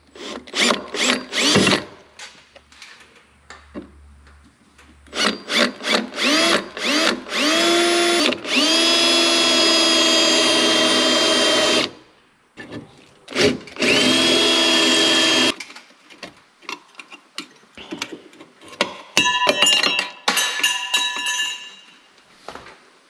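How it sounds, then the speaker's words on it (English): Loud power drill whirring in repeated bursts, rising and falling in pitch as it drills out rivets in a corroded metal door frame of a Kenworth cabover truck, with short pauses and light metallic clinks between runs. "I'm gonna drill these rivets out so my door will close"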